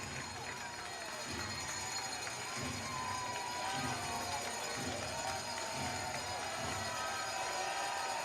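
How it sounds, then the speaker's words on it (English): A minor-league baseball crowd at an IronBirds versus Cyclones championship series game cheers and murmurs steadily in the distance, with a commentator talking over the sustained ballpark noise. "Crowd's into it."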